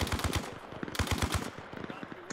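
Bursts of automatic machine gun fire in the video game Arma Reforger during a platoon assault, rapid close rounds in two runs of steady rhythm with a little speech mixed in.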